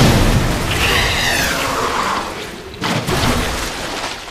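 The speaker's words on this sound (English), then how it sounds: "2 grenades do the job." Heavy grenade blasts in Resident Evil 2 Remake, a loud booming rumble that rolls on and fades, then a second sharp burst near the end, with no talk over it.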